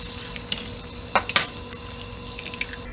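Eggs dropped into a hot oiled pan for Hawaii-style fried rice, giving a steady low crackle with a few sharp spits and clinks of a utensil against the pan, close and moderately loud with no voices.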